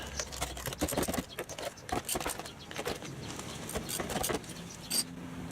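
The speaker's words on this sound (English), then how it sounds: "8mm socket. Just loosen those up." An 8mm socket loosens motorcycle front fender bolts on a DR650, giving a series of small clicks and metallic ratchet ticks at close range, fairly quiet, with brief rustling between them.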